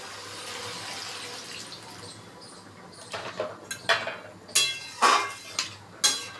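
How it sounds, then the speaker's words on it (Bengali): Hot water poured into a cooking pot of fish curry, a faint running splash followed by a series of clinks and knocks of utensils against the pot, close by, no talking. "একটু গরম জল দিয়ে দিচ্ছি।"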